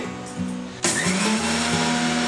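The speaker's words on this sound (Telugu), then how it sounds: "వేయించుకున్న ఆవాలని మిక్సీలో వేస్తున్నానండి" A brief motor hum, then a kitchen mixer starts with a loud rush and grinds roasted mustard seeds steadily with a rising whine, continuing to the end.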